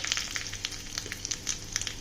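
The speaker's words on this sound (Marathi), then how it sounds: "तेल गरम झालं आहे तर त्याच्यामध्ये घालायची राई घालायची आहे" Mustard seeds sizzle and pop in hot oil, with a steady crackling hiss and quick irregular spits close by, no talking.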